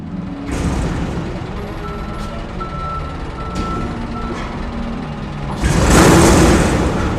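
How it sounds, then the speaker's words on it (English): A large garbage truck rumbles nearby while a steady reversing beep repeats in the background; the engine swells louder toward the end. "Or simply a garbage truck."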